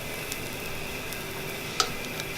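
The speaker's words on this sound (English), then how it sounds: "So you just take your spatula, you get under there really fast, and then flip it." An orange oatmeal pancake sizzles in a hot skillet with a constant soft frying hiss. A single sharp click comes from the spatula as it slides under and flips the pancake.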